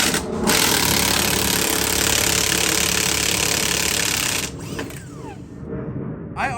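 Impact wrench on the strut of a 2023 BMW M340 during a KW V3 coilover install, a loud continuous mechanical whirr and rattle for about four seconds, then cutting off abruptly with lighter clatter afterward.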